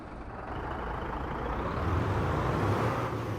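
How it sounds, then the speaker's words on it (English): A heavy truck reversing in the video game American Truck Simulator, a steady low diesel rumble holding close and loud for a few seconds with a faint hiss on top, no voices. "they're just going to reverse the truck"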